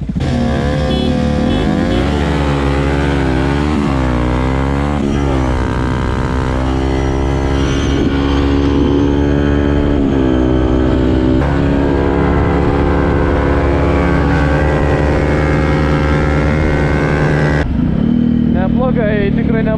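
Yamaha WR 180 and KTM Duke motorcycles pulling away from a standstill, engines climbing steadily in pitch through the gears, loud and continuous, with a voice talking over the engine noise.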